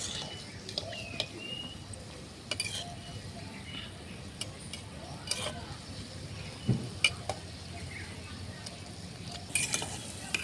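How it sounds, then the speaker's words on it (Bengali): Bread balls fry in hot oil, giving a soft, steady sizzle with scattered clinks and stirring knocks from a utensil, fairly quiet and close by. "এখানে আমার একদিক লাল করে ভাজা হয়ে গেছে।"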